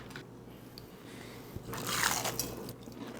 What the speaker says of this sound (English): Oh, the crunch is there.